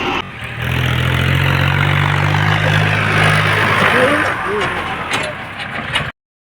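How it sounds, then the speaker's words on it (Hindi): Mahindra 265 tractor engine running, a steady loud diesel drone with a low throbbing hum that holds for several seconds before cutting off abruptly. "बात सुनो भाई एक बार आप इस ट्रैक्टर की"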